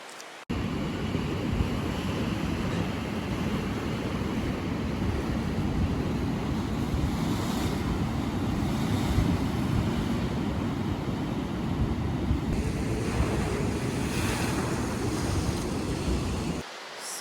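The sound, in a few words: Atlantic ocean waves and tide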